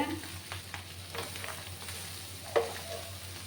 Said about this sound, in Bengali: দেখো বন্ধুরা আবার আমি নাড়াচাড়া করে দিলাম, মাঝে মাঝে আমি নাড়াচাড়া করে দিচ্ছিলাম।